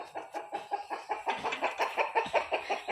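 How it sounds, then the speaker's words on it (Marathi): A rooster squawks while being chased by a dog in a village yard, rapid repeated loud clucking cries in a steady pulsing rhythm, close and alone without talk. "ते कोंबड्याची पाठ लागते तो आधीच ओरडतोय"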